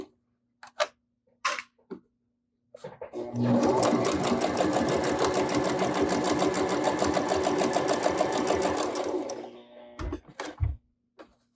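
A sewing machine stitches a fabric face mask with elastic, running in a fast, even rattling burst for several seconds at close range, framed by brief clicks and handling noises before and after.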